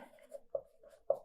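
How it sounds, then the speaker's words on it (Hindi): Chalk or marker strokes on a board during a Hindi-medium physics lecture on laws of motion, a few quiet scratchy strokes with two sharper taps, close and alone without talk. "तो देखिए अपन लिख दें"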